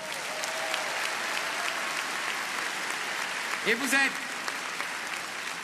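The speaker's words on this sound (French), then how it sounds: "On vous applaudit aussi." Crowd applause at a political rally in Cannes, steady dense clapping from a large audience, with a voice briefly rising over it near the end.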